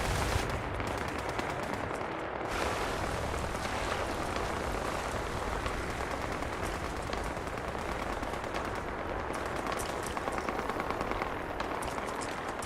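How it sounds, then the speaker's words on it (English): Continuous crackling gunfire in the video game Fallout 76, dense and steady throughout, like rapid distant shooting layered with noisy rattling; no voices. "There's gunfire going on, what's that?"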